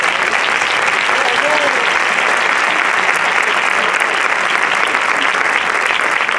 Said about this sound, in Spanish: ya le pido un aplauso para ellos muy grande.